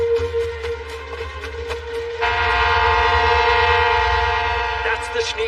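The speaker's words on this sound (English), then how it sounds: "That's the Schneek Dust Company's train." An anime-style train rumbles past with a sustained, loud horn blast joining midway over heavy low rolling noise, close and continuous.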